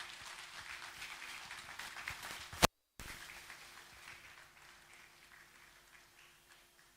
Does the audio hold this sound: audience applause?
yes